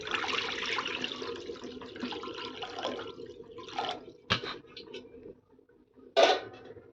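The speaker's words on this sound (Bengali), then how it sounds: "চলো কড়াইতে জলটা দিয়ে দিই" Water pours into a kitchen wok with a continuous splashing stream for several seconds, then trails off into drips and a couple of sharp metallic clanks of cookware.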